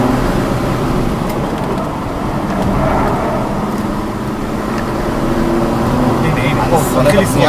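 A Seat Leon FR accelerating hard on a race track, its engine droning loud and steady throughout with a rising strain near the end, while an instructor talks over it.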